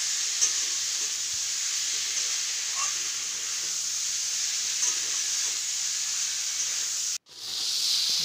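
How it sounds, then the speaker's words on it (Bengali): Fried potato and soybean chunks cook with spices in a pan, giving a soft, even hissing sizzle that runs steadily, then cuts out briefly near the end and returns. "আলু আর সয়াবিনটা কষবো।"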